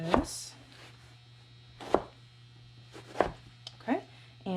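A knife chopping tomatoes into sections on a cutting board: four sharp, evenly spaced knife strikes about a second apart, close and distinct, over a steady low hum with faint voice sounds between the cuts.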